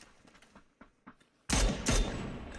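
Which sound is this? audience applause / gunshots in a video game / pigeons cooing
gunshots in a video game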